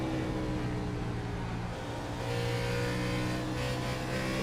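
Stock car engine revving during an Xfinity Series race at Bristol in iRacing, a steady loud mid-pitched drone with layered engine harmonics, shifting pitch as the car comes off a corner and accelerates.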